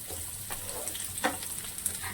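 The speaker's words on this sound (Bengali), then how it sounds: "যতক্ষণ আলুটা ভাজা হচ্ছে" Potatoes fry softly in a pan for a Bengali fish curry, a quiet steady sizzle with faint stirring scrapes and no talking.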